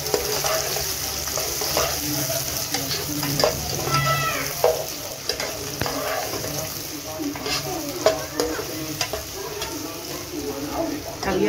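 Onions hiss and sizzle loudly in hot oil with whole garam masala spices, a dense continuous frying sound with occasional stirring scrapes and faint background speech.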